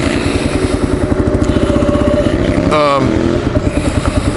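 A motorcycle engine runs loud and close with a steady, throbbing exhaust pulse and a short burst of rougher clatter midway.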